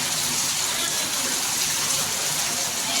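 Heavy rain pours down in a village, making a steady, dense, close hiss and roar that holds without pause throughout.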